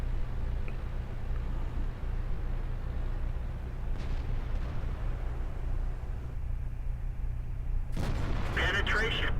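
In the World of Tanks game, a slow-moving T28 tank's engine rumbles low and steady, then a single loud cannon blast booms near the end.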